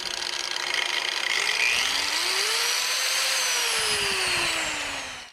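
An Einhell TE-AG125CE 125 mm 1100 W angle grinder with speed control whirs at minimum speed, a loud close motor whine whose pitch rises, then slowly sinks and fades at the end; no talking.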